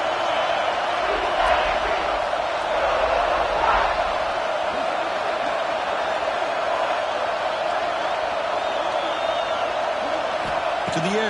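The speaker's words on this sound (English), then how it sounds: "this crowd is fired up. Listen to this noise here." A stadium crowd in a college football video game gives off a steady, dense roar throughout, with occasional louder swells and faint whoops.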